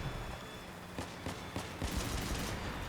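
Volley-fire shots from the Thyrsus weapon in Crossout, a vehicle combat game: a handful of sharp bursts land about a second apart against a dense, constant background of in-game noise.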